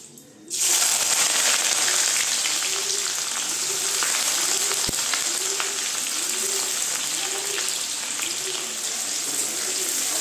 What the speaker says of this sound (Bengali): ঘি আর সাদা তেলটা গরম হয়ে গিয়েছে, এর মধ্যে আমি দিয়ে দেব এই যে বেরেস্তা বানানোর জন্য কেটে রাখা এই যে পেঁয়াজগুলো।